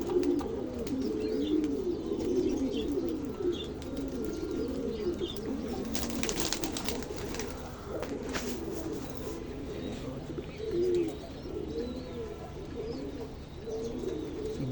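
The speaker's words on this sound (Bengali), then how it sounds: "দুই খাঁচার কবুতর এগুলা উঠতেছে" Pigeons in cages at a pigeon farm keep up a continuous low cooing chorus close by, with occasional rustling and someone speaking intermittently over it.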